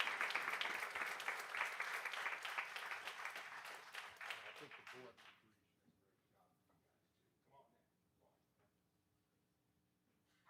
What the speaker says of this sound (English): So if I could, a big round of applause.